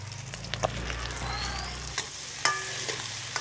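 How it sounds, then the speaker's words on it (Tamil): Onion sautés in a pan with a steady close sizzle, a low hum underneath fading out partway, and a few sharp clicks and scrapes of stirring utensils. "வெங்காயம் ரம்பை அதையும் சேர்த்து வதக்க போறோம்"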